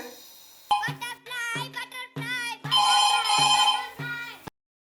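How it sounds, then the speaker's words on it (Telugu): A phone ringtone plays a melodic, repeating electronic tune in short phrases, fairly loud and close, for about four seconds before stopping abruptly, with no voices over it. "అయినా రింగ్ అవుతూనే ఉంది"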